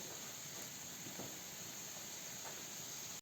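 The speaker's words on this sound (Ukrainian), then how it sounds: "Уліла тут олії і на олії підсмажуємо." Steady, bright sizzling of carrot and onion frying in hot oil, a continuous hiss with a few faint soft pops.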